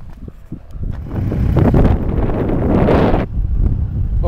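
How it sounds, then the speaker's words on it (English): Strong wind buffets the microphone at Austin Executive Airport, a roaring rumble that builds and stays loud for several seconds before easing off, with no talking. "whoa, the wind is getting stronger."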